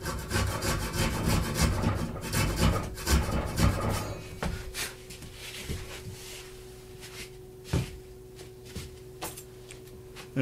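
A Japanese pull saw cuts wood on the pull stroke, rasping rhythmically and loud at first, then thinning to a few scattered scrapes and knocks in a quiet workshop.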